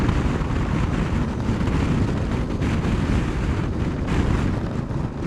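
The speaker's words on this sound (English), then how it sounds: "that wind is strong" Strong wind buffets the microphone outdoors in the Lake District, a steady, loud roar of broadband rumble with no breaks and no voices.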